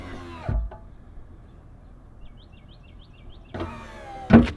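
Power-deployed running board step on a 2021 RAM 2500 truck: a short electric motor whir near the start, then a quiet pause, then another whirring motor run ending in a sharp mechanical clunk, close up and without talk.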